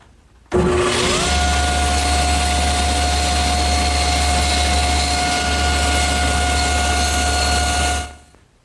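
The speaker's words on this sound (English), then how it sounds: "The easiest way to do that is over here at the table saw, where I'm going to hold it against my miter gauge and just spin it slowly into the blade" A table saw runs steadily at close range while a wooden piece is held against the miter gauge and turned slowly into the blade to cut a tenon. After a brief startup the motor settles into a loud, constant whine and hum, then stops.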